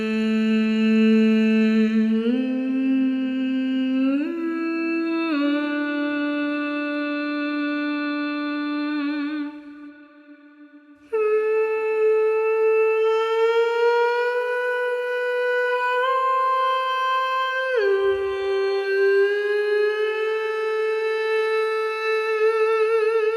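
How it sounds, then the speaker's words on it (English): The Dark Siren true legato patch from Zero-G's Ethera Gold Atlantis 3 sample library plays sustained, eerie vocal-like synthesized tones that glide smoothly between pitches, with one brief quieter dip midway before the long notes resume. "And Dark Siren true legato?"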